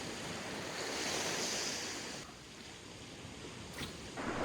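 Surf rolls steadily onto a jungle beach cove ringed by mountains and rainforest, a loud continuous wash of breaking waves with some wind noise and no voices.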